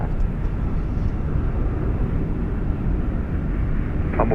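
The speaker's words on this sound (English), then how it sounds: "Small aircraft." A small aircraft at Dallas/Fort Worth International Airport at night, its engine drone a loud, steady low rumble that fills the whole stretch without a break.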